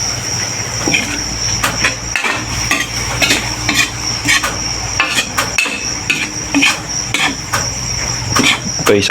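A metal utensil stirs paklay, a pork intestine dish, in a pan, clanking and scraping in a quick, repeated rhythm against a steady background hum.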